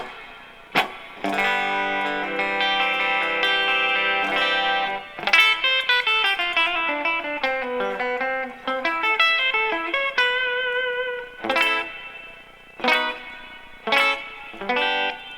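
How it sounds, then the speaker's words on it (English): Electric guitar plays sustained, distorted lead notes and chords washed in reverb from a Joyo pedal, with tails ringing out between phrases, loud and up close. "add a little bit of atmosphere from the Joyo pedal,"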